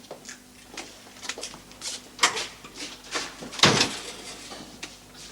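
A door is shut indoors, with soft shuffling and light clicks leading to a dull thump, all faint and close by with no talking.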